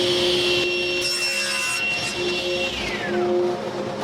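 A saw cuts a full sheet of plywood on a table saw, giving a loud, steady whine and buzz throughout, with no one speaking.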